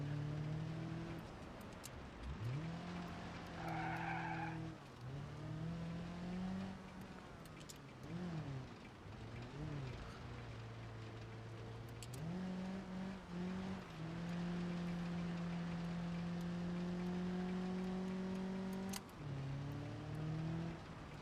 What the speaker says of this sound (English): It doesn't have that rally car sound to it.